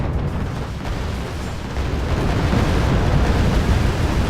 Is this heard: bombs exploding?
yes